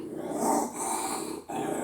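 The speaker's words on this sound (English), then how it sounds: "Godly, these vicious dogs." Dogs growling, a near, rumbling snarl in two or three bursts with brief breaks between them.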